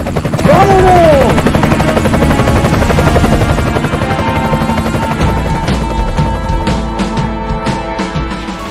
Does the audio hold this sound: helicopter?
yes